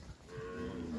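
A cow moos once in a short, low bellow on a cattle-working day, faint and brief.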